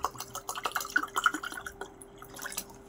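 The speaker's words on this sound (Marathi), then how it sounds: "याच्यामध्ये पाणी पोर करतो मी" Water poured into a glass of red rum mixed with a drink, heard as soft close drips and small splashy trickles in an irregular rhythm, fairly quiet with a faint steady hum behind.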